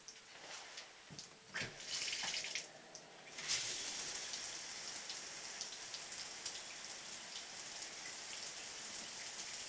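Bathtub tap running water to rinse a military-surplus wool blanket: a quiet start with a few splashes, then a steady close rush of water pouring into the tub.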